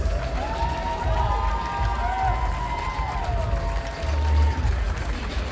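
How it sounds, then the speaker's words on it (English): A crowd at an amateur fight sports event cheers and applauds loudly and continuously, with shouts and a whistle-like tone rising above the roar. "Let's hear a round of applause for these two warriors."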